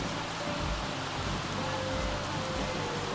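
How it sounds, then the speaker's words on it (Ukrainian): Heavy rain pours down steadily in The Sims 3, a dense, even wash of noise with a low rumble underneath and no voices. "Дощ херачить"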